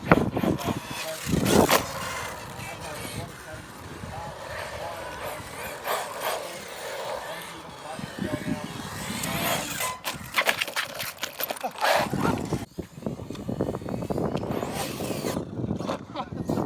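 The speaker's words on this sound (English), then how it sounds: "Trophy Flux Buggy out." An HPI Trophy Flux RC buggy drives outdoors, its electric motor whining and rising in bursts over gravel and concrete, with people talking over the runs.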